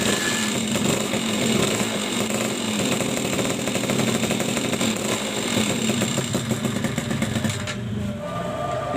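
A Suzuki Crystal motorcycle engine fires up after a kick-start following crankshaft seal replacement and carburetor tuning, running loudly and steadily close by for several seconds with a rapid uneven putter before cutting off near the end.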